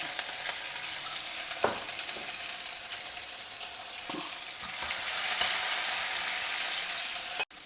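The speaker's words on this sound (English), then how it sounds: "Now add some mustard seeds, jeera, this ginger green chili paste," Mustard seeds, jeera and ginger green chili paste frying in hot oil, a continuous close sizzle with occasional sharp pops and a sudden clatter just before the end.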